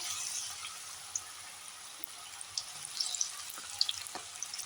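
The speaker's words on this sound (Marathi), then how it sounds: "तेल तापत आलेलं आहे. आता एक एक सोडते मी असं." Cabbage pakoras, made with a little wheat flour for crispness, are dropped one by one into hot oil, giving a soft steady sizzle with scattered small pops and crackles at close range.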